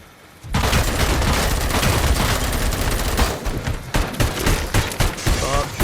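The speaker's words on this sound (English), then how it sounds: "Stop shooting me." Dense, sustained gunfire and explosive bursts in the video game Robocop Rogue City, loud and continuous after a brief quiet start, with sharp shots punctuating a rumbling battle din.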